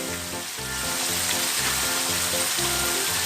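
Already-fried tuna pieces go into a hot pan for ginataang tuna, giving a steady, close, loud sizzle and frying crackle that fills the whole stretch, with no talking.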